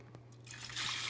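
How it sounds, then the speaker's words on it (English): Water poured into a pot of dal cooking with masala spices, a soft trickle building into a steadier, louder pour near the end of the short clip. "And I'm going to add my water."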